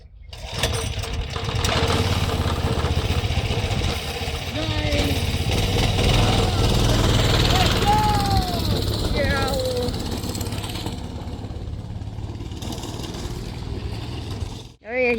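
A 6.5HP go kart engine runs loudly and continuously, with revving rises and falls, and voices shout over it before it cuts out near the end.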